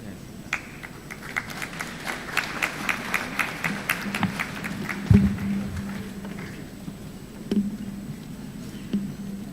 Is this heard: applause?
yes